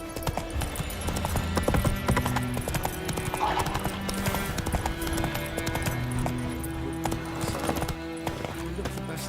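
Horse Roach's hooves in The Witcher 3, rhythmic clip-clop footfalls at a steady trot, close and continuous, with game music and ambient sound underneath.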